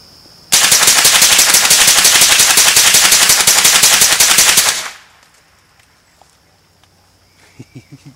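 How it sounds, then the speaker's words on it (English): A S&W M&P 15-22 rifle fires 25 rounds in rapid succession, a loud, dense burst of sharp shots lasting about four seconds, then quiet with a few faint clicks. "Here we go, 25 rounds, rapid fire."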